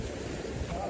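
Waves break and wash against a Turkish shoreline where anglers cast topwater poppers for giant amberjack. A steady, close surf roar is mixed with wind buffeting the microphone, with no voices.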